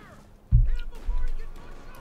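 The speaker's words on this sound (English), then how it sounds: "Mortar joining in" Mortar and machine gun fire in the World War II strategy game Company of Heroes 2, heard as a sudden heavy low boom followed by a second thump and rumbling combat noise, with a faint spoken voice underneath.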